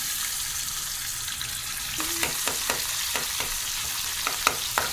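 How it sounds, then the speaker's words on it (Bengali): Constant oily sizzle of onions and green chilies frying, with occasional scraping taps of a spatula against the pan. "এখন পেঁয়াজ আর কাঁচামরিচ দিয়ে দিতেছি তেলের মধ্যে"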